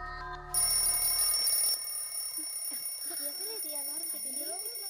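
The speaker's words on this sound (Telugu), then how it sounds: "అమృత, ఇది అలారం పెట్టుకొని ఆడుకునే టైం అంటే ఇది. ముందు దాన్ని ఆపవే." An alarm rings in a tense Telugu action-film scene, a steady electronic tone that blares loudly for about a second and then keeps ringing more quietly beneath a voice speaking over it.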